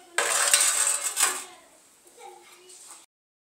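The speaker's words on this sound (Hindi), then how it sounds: "ऐसे ऐसे हमें इसको अच्छे से मिला लेना है।" Dahi vada batter being stirred in a bowl, with a rapid run of clinks and scrapes up front, then softer intermittent stirring sounds toward the end.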